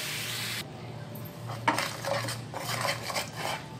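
Sugar with a spoonful of water cooked into caramel in a pan over a low flame, a spoon scraping and clinking against the metal in repeated close strokes after a steady hiss fades.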